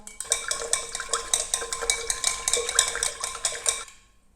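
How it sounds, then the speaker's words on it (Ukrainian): A utensil stirs descaling powder dissolved in water in a container, 100 grams of powder to 300 ml of water, for descaling a Gaggia Classic Pro espresso machine. Quick, even, clinking scrapes come one after another for about four seconds, then stop. "І зараз ми це все ретельно перемішуємо."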